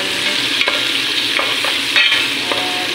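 Mushrooms sizzle steadily in a frying pan while being stirred, with a continuous broadband hiss broken by several sharp scraping strokes of the utensil, close and fairly loud, no voices.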